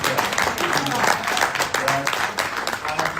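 Women at a network retreat in Shanghai clap together in a continuous, fairly loud round of applause, with voices mixed in underneath.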